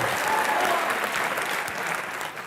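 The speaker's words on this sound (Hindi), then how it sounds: "एक बार जोरदार तालियां रजत सर के लिए" A studio audience at a comedy television show bursts into loud, sustained applause that fades a little toward the end.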